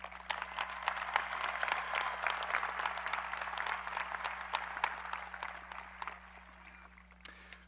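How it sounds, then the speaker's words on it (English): Applause from a crowd at a high school graduation ceremony, a fairly quiet, distant wash of clapping with a few sharper nearby claps standing out, over a steady electrical hum. "Please give them one more round of applause."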